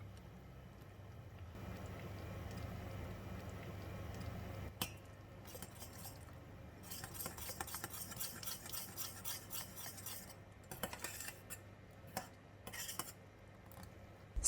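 Sesame oil stirred into a steamboat dipping sauce, a soft scraping, rubbing stir of utensil against a bowl that starts quietly and turns into busier, irregular strokes with small clinks near the end.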